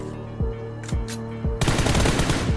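Gunfire in the Free Fire video game: three sharp single shots spaced about half a second apart, then a dense, loud burst of rapid automatic fire for the last second, with no talking.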